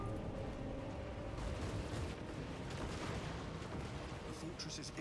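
Heavy artillery fire in the video game Warhammer 40,000: Space Marine 2, dense booming blasts and rumbling gunfire filling the scene continuously amid battle noise, with voices partly mixed in.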